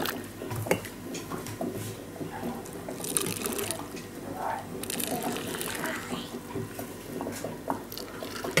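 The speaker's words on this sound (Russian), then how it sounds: "Итак, заливаем первый раз кипящим рассолом." Boiling brine is poured carefully over cucumbers packed in jars, a soft gurgling trickle with occasional drips and clinks, close by and moderately quiet, with someone speaking over it.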